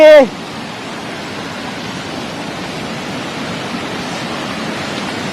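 A brief voice at the start gives way to the constant heavy roar of a nearby waterfall, a full, unbroken rush of water.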